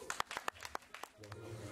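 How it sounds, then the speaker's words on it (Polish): Scattered hand claps from a small audience at an outdoor town festival, greeting the band, sound faint and distant, a few separate claps in loose rhythm over quiet ambience. "brawa!"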